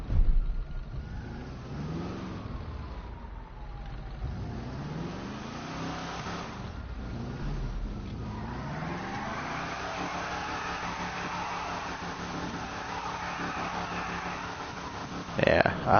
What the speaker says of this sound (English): I love the sound of the cars, especially on next gen.